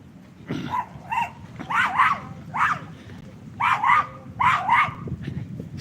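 A dog on a Gulf beach barks repeatedly in quick, yappy bursts of two or three, fairly close, over a steady low rumble of wind and surf.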